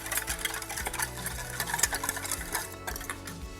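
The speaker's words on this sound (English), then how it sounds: "I'm gonna whisk it so that the salt is all diluted in the lemon before adding the olive oil" A whisk beats salt into lemon juice in a bowl, making quick, rapid rhythmic clicking and scraping strokes that sound close and continuous.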